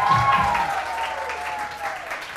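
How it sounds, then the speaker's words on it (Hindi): A studio audience at a weekend talk show applauds warmly in a brief, steady burst, with a faint tone sounding beneath the clapping. "बहुत सारी तालियां"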